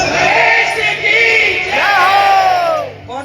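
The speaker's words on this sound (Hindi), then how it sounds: "जयकार लगाओ।" A crowd at a bhajan performance in Birgunj, Nepal, shouts a devotional jaikara together, a loud, sustained massed cry of voices that swells, dips, and rises again before trailing off.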